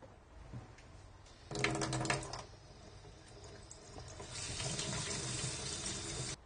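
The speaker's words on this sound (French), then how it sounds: "on va d'abord éplucher la patate douce, ensuite la rincer." A peeled sweet potato is rinsed under a kitchen tap. Water runs continuously and quietly, splashing louder in two stretches as the potato is moved through the stream.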